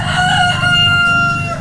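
A rooster in a village in Bohol, Philippines crows once, loud and close, its strained call held steady before tailing off.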